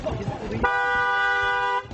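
A car horn blows one long steady honk of about a second, loud and close, over a noisy street scene with voices.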